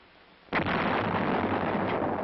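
A single loud blast from a US Army 105mm self-propelled howitzer firing, a sudden boom followed by a long, heavy rolling roar that carries on to the end.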